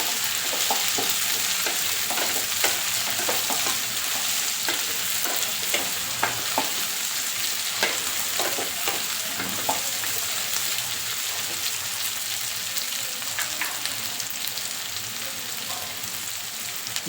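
Spiny gourd and onion sabzi fries in a pan with a constant close sizzle, punctuated by irregular scraping and clinking as a spoon stirs it now and then.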